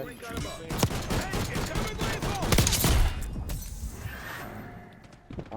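An SVD rifle fires in the video game Black Ops 6, a rapid string of sharp cracking shots with echoing tails that thin out toward the end, with voices talking underneath.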